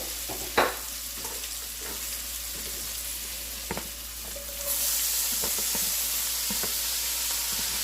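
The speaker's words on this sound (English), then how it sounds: "on top of that, I'm going to add in my cabbage" Cabbage hits hot butter and olive oil in a pan, and a quiet sizzle with a few utensil clicks swells into a louder, brighter hiss partway through, heard close with no talking.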